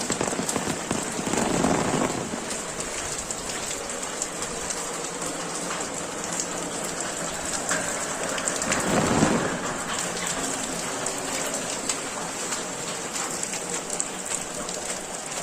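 A heavy monsoon downpour in a Konkan village near Dapoli and Khed hisses without letup, with two deep rolls of thunder swelling near the start and again about midway.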